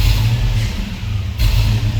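A swapped LS V8 in a Squarebody Chevy C10 runs nearby with a steady low engine drone and an uneven, slightly lumpy pulse from a misfire, holding a constant loud level throughout.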